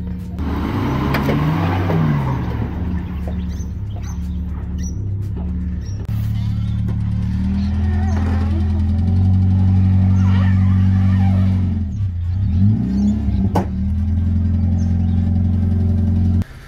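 A car engine revs hard and steadily while the vehicle sits bogged, loud and continuous with pitch swells and dips as the throttle changes.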